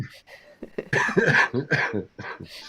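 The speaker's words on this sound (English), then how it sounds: "you're coughing and spluttering and you can't breathe properly" Several harsh, sputtering coughs and throat-clearing bursts come close to the listener, with rough breathy catches between them.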